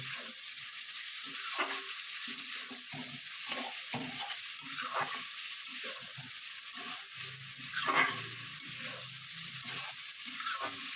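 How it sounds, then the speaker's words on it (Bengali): Vegetables frying with a ground radhuni spice paste in a pan for a vegetable and bori dish, a steady sizzle broken by repeated stirring scrapes throughout, with one louder burst near the end. "রাঁধুনি বাটা দিয়ে একটু ভালো করে আমি কষে নেব"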